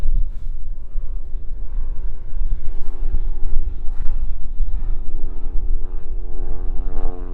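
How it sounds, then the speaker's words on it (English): A propeller plane towing a glider passes overhead in the Cairngorm mountains, a steady droning engine hum with wind buffeting the microphone throughout. "It's a plane dragging a glider."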